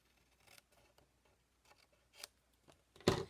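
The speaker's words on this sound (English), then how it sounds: "let's trim that off." Scissors trimming paper for a card craft project, a few faint snips and rustles ending with one sharper, louder cut, close and quiet.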